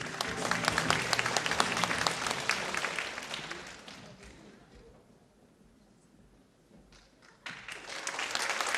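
A concert audience at a Yakut pop music show applauds a singer's entrance, loud dense clapping that fades to near silence midway, then a brief burst of clapping returns.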